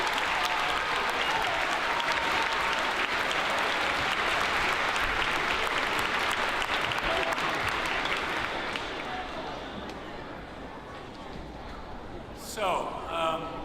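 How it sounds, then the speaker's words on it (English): A school audience gives a big, sustained round of applause for the performers and speakers, dense clapping that fills the room and slowly thins toward the end, with a voice coming in briefly at the close. "give one big collective round of applause to all our performers and"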